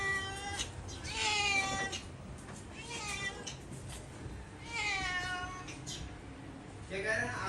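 A male cat in heat meows loudly and repeatedly in drawn-out, wavering calls indoors, three long yowls spread across the stretch with quieter gaps between them.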